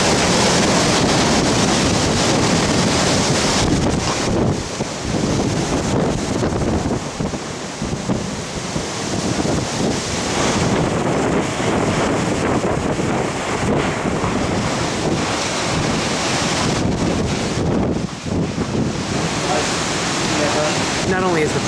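Hurricane Ernesto wind roars across a patio on Mexico's Yucatan Peninsula in 2012, a loud unbroken buffeting rush with gusty surges and heavy microphone wind noise throughout.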